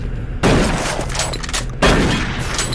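Two loud, close pistol shots ring out in DOOM 3, about a second and a half apart, each a sharp blast trailing into a rumbling echo.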